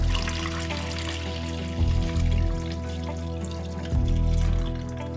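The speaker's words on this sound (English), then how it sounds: "that coolant water" Water trickles and splashes steadily as coolant is poured during work on a Kawasaki ZX6R motorcycle, with a low continuous hum underneath and two brief louder gurgling surges.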